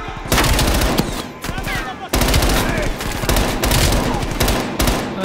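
Rapid, dense shotgun blasts from a Call of Duty: Black Ops Cold War campaign firefight, loud and close, nearly continuous across the whole stretch with a brief break partway through.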